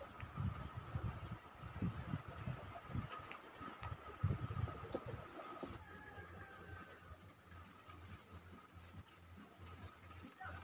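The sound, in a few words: strong wind and rain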